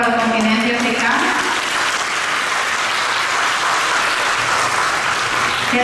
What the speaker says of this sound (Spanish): Un aplauso, por favor, para el continente africano.